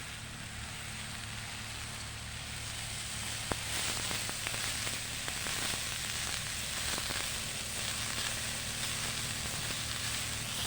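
Kodavan leaves drop into a pan of chili powder frying in oil, producing a steady loud sizzle with a crackling spike as they land, continuing evenly throughout with no talk.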